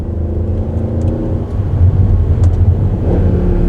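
Mercedes C63 AMG 507 Edition V8 engine accelerating hard through corners, a loud, deep, steady rumble with rising growl heard from inside the car, no talk.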